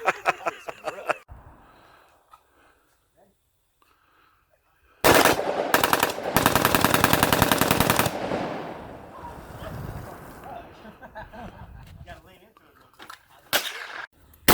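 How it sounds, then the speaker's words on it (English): Bursts of automatic fire from an AK-47 machine gun outdoors by a river, a short burst at the start, then a loud sustained volley of rapid shots, with a final short burst near the end and voices cheering between. "AK-47."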